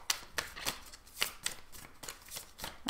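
Tarot cards are shuffled by hand in quick repeated riffling bursts, about a dozen crisp flicks close to the ear, no talking.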